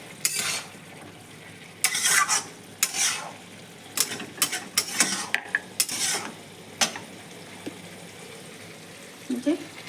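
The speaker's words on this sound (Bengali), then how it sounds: "এখন হাই ফ্লেমে নাড়াচাড়া করবো। বাঁধাকপি আমার সেদ্ধ হয়ে গেছে তো, এখন কিছুক্ষণ ভাজতে হবে।" Boiled cabbage stirred in a pan on a high flame, a spoon scraping and clacking in short irregular bursts over a faint sizzle of frying, close by and without speech.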